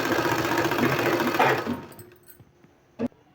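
For about a second and a half an electric sewing machine runs in a steady, dense whir as it stitches a folded fabric strip for a beaded sleeve, then stops, leaving faint handling noises and a single sharp knock.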